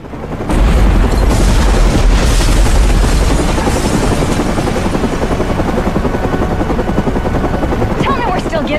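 A massive explosion in the Batman: Arkham Origins video game at the Gotham Royal Hotel booms out as a loud, sustained roar of rumbling blast noise with crackling debris, lasting several seconds.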